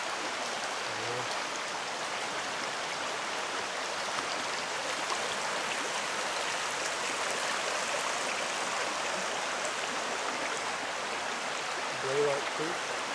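Blaylock Creek flowing near a hiking trail by the Albert Pike Recreation Area, a steady broadband rush of water running throughout, close and continuous, with people talking over it.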